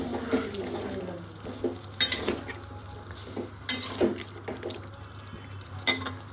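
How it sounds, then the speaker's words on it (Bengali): A spoon scrapes and clanks around a pan of vegetarian potato curry with added water, with soft sizzling beneath irregular stirring knocks and a few sharper metallic clinks, close up and with no talking. "দিয়ে সমস্ত কিছু নেড়ে দিচ্ছি"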